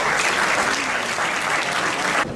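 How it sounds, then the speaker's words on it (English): An audience gives a surprise panelist at a women's business fund panel event a sustained round of applause, dense and steady, which cuts off abruptly near the end. "Ladies and gentlemen, a big round of applause for our surprise panelist"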